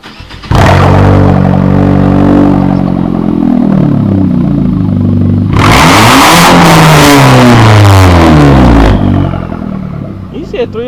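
A modified purple Honda hatchback engine revs hard, rising and falling through two loud sustained bursts with a pause between, heard close up.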